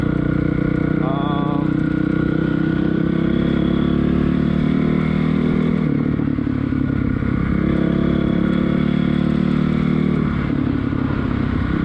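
A 2006 Honda CRF450R dirt bike engine runs steadily close by, a loud, constant four-stroke drone with slight rises and dips in revs and some mechanical clatter throughout.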